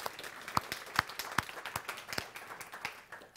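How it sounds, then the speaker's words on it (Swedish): Scattered applause for a three-piece mingle band at an indoor talk event, a modest audience clapping with distinct individual claps standing out, fairly close and moderately quiet, no talking. "De kan väl få en applåd för sina insatser."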